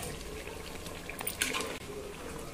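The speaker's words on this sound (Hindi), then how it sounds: "थोड़ा पानी देखिए इसमें" Water poured into frying masala while cooking Hyderabadi bagara khana and chicken khorma, a running, splashing water sound with a brighter sizzle-like burst in the middle and no talking.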